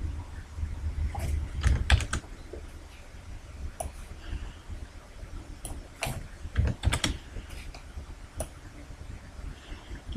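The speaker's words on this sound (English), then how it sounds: "Use the arrow keys if necessary" Keys on a computer keyboard are pressed in scattered taps and short bursts while shapes are nudged in Microsoft Visio 2010, close and fairly crisp over a low background hum, with no voices.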